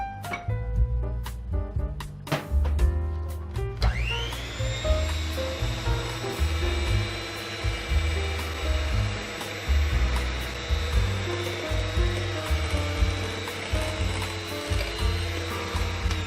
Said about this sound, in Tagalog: Mix lang natin siya hanggang maging fluffy yung mixture.